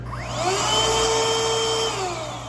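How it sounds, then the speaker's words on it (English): An 18-volt cordless handheld vacuum runs continuously with a steady motor whine and airflow hiss, spinning up briefly at the start and holding a constant moderate pitch throughout, close by. "this is an 18-volt vacuum, little cordless vacuum, of course"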